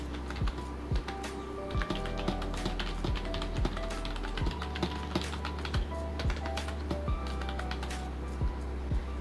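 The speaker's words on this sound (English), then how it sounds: "I just spent the last couple minutes typing on this keyboard, and it didn't miss a single letter." Steady typing on an NPET G10 RGB gaming keyboard, budget model, with rapid irregular key clicks and occasional heavier keystrokes, close and continuous throughout.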